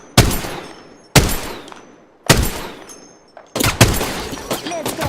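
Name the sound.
gunfire in video game Apex Legends or Fortnite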